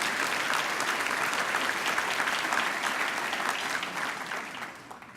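Keynote audience at a University of Houston Cougar 100 event breaks into sustained, dense applause that holds steady for several seconds before starting to taper off.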